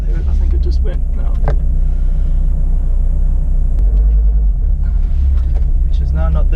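A Volvo XC70 on a test drive after a power steering pump replacement, giving a steady low road rumble and engine drone throughout, with a few faint clicks and knocks in the cabin.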